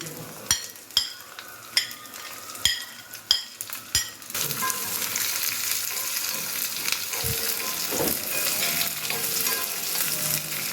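Small onions drop into hot oil with curry leaves: a few sharp taps and clinks, then a sudden, steady sizzle and crackle of frying that continues near and moderately loud, with occasional stirring scrapes.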